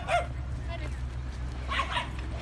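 Dogs yip and bark in short bursts at an American dog park, fairly close, with a steady low outdoor rumble and people talking over them.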